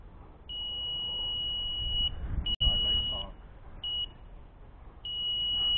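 A high, steady electronic beep from a fishing bite alarm sounds in several long and short bursts during a riverbank fishing session, with rumbling handling noise and a sharp click partway through.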